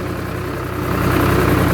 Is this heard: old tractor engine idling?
yes